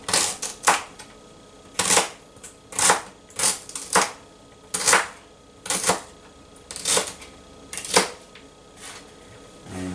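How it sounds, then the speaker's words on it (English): Beet stems are diced small with a knife on a cutting board, producing sharp, crisp chops in irregular bursts across the whole stretch, close and distinct with no talking. "I'm just going to do a small dice on these"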